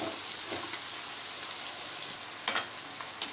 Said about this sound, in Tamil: இப்போ நம்ம சாதத்தை அதில் கலந்து விட்டுடலாம்.